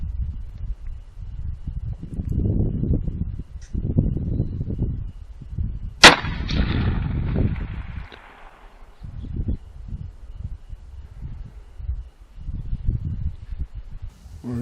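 A single sharp rifle shot cracks out loudly while shooting prairie dogs, followed by a long fading echo rolling across open country, with low wind rumble before and after.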